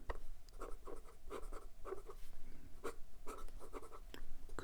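Fountain pen with a broad nib and wet ink scratching across paper, faint close strokes in a steady rhythm of short scrapes, no talking.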